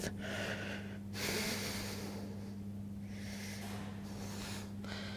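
Slow, deep nasal breaths come during a passive Zercher squat stretch, each inhale and exhale soft and airy against a quiet background with a low steady hum.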